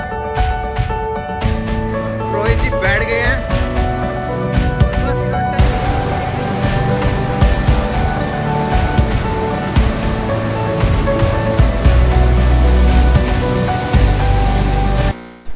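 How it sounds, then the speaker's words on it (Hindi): The Yamuna river runs fast and full near Yamunotri in winter, with snow above. Its loud, continuous roar of rushing water stays close and steady throughout and fills the whole background, with music playing over it. "ये साथ में मेरे बह रही है यमुना नदी"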